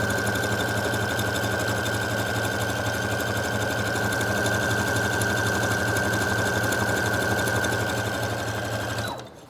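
Brother DS1300 sewing machine stitching an overlock, a steady loud mechanical whir running continuously for about nine seconds before stopping abruptly at the end, with no talking.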